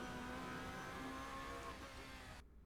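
Racing car engine accelerating hard in a racing simulator at VIR, a steady loud drone with rising harmonics that cuts off abruptly near the end.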